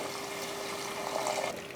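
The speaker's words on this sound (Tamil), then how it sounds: "கொஞ்சமாக தண்ணி ஊற்றிட்டு அதுக்கப்புறமா மட்டன் வேக வச்ச தண்ணியும் இதில் ஊற்றிடலாம்." Water is poured steadily into a mutton masala cooking on the stove, making a soft, continuous trickling and splashing close by, with no voices.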